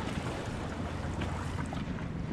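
A boat idles in the harbour at Highbourn Cay, giving a steady, loud broadband rumble mixed with wind buffeting and water wash, continuous throughout with no voices.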